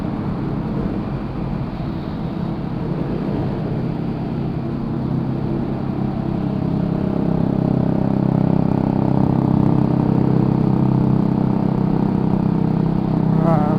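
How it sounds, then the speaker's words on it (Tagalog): A motorcycle's loud exhaust on a traffic-clogged road: a steady, rumbling engine drone that swells louder midway and holds, with no talking over it. "Ingay ng tambutso ni Kuya."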